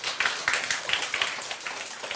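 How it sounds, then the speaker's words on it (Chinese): An audience claps at a talk, a short burst of brisk, fairly even hand claps that carries on for a couple of seconds at moderate loudness. "来鼓掌一下"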